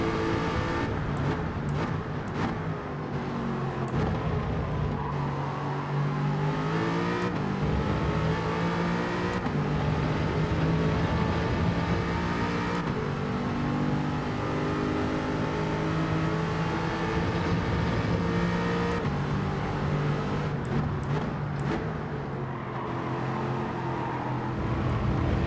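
Race car engines in Gran Turismo 7 drone steadily throughout, with pitch rising and falling as the pack runs closely together, a continuous loud mechanical roar with no talk.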